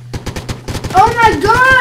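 Fortnite gunfire cracks out as a quick, regular string of sharp shots, followed by a loud excited voice over the last shots.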